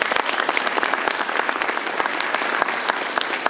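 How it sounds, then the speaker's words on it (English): A crowd at the City of Romulus State of the City Address applauds, a dense, even wash of many hands clapping, sustained and moderately loud throughout. "Give him a round of applause, you guys."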